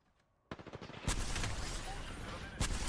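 Video game gunfire crackles in dense, overlapping bursts after a quiet start, with a sharper loud volley near the end and faint voices mixed in.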